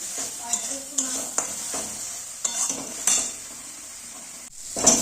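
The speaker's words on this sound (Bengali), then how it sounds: "মশলাটা কিন্তু বারে বারে নাড়তে থাকবে, নইলে কিন্তু নিচে লেগে যেতে পারে।" A spoon scraping and stirring spice paste in a pan for Bengali aloo dum over a low sizzle, with repeated clinks and scrapes at irregular intervals.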